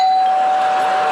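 A doorbell rings with a sustained, bright electronic tone, loud and close, heard alone for about a second.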